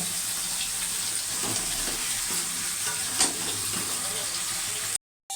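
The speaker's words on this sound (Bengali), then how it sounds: "মশলাটা কষিয়ে নেবো। মশলা থেকে তেল ছেড়ে যাচ্ছে।" Bengali spice paste sautéed in oil until the oil separates, giving a loud, steady sizzle with repeated scraping stir strokes, before the sound cuts off abruptly near the end.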